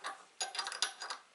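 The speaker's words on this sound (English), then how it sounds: "Then just tighten the screws up" Screws are tightened into an IKEA KALLAX wall bracket, giving a quiet, close series of ratcheting clicks and scraping ticks in short bursts.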